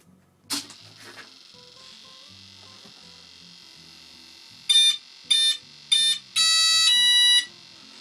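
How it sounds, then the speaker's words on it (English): Aileron servo on a Durafly Brewster F2A Buffalo RC plane chattering in short buzzing bursts: a couple of brief whirs, then four louder electric buzzes in quick succession, the last one held longer, over faint background noise. "Aileron servo. Just seems to chatter a bit."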